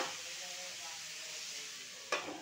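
A pan of beans, potato and radish sizzles steadily up close, ending in a short sharp clink of utensil against metal.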